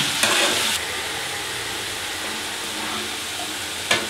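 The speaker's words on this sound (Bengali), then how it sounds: "আলুগুলো নুন হলুদ দিয়ে একটু মানে কড়া করে ভেজে নেব" Potato pieces frying in oil with salt and turmeric, giving a steady broadband sizzle with a brief brighter hiss at the start and a sharp crackle near the end, no voices.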